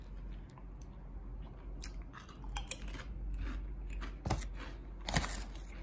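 Crisp crunching bites and chewing of Japanese sour cream and onion potato chips, close and fairly quiet, with a few sharper crunches standing out over a low background hum.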